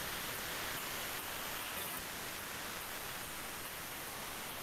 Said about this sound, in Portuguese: o som da chuva está tão alto